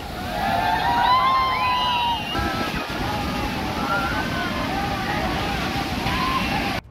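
Water from the full Hemavathi dam rushes out through six open gates, a loud continuous roaring wash that holds steady throughout, heard from close by with no break.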